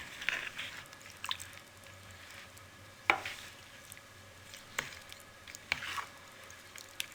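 Oil stirred into homemade gajar achar, a carrot pickle, gives soft, squelchy mixing sounds in a few separate bursts against a quiet room, with no talking.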